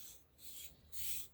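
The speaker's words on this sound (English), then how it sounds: "You can also sharpen your charcoal by rolling it" Charcoal stick rubbed on sanding paper to sharpen it, three faint, quick gritty rasping strokes, the last one a little louder, in a quiet room.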